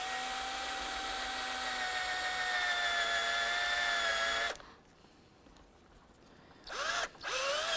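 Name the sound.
drill with 3/8 bit drilling out plastic rivets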